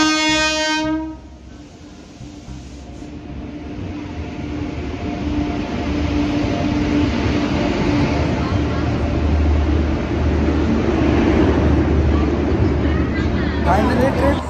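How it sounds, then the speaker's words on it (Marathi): A passenger train pulls into a station on a trip around Mathura, Vrindavan and Agra, opening with a long horn blast and then a loud, steady rumble of rolling wagons and clattering wheels, while people talk nearby. "फायनली ट्रेन आलेली आहे आता"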